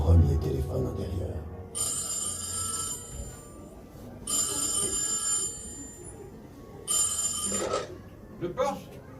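An early internal telephone in a château, the first one installed there around 1900, rings in three long bursts of bright metallic bell with pauses between them, while speech murmurs faintly beneath.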